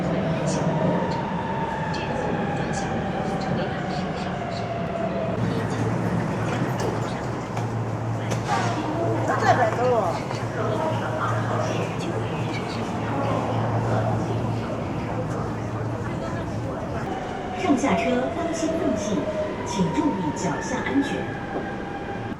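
Shanghai subway train ride, a steady low rumble of the metro carriage with a constant hum and brief squeals, continuous throughout with faint voices in the car.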